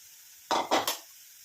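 A spoon stirring an amla powder mixture in a bowl, three quick scraping strokes close by, then quiet.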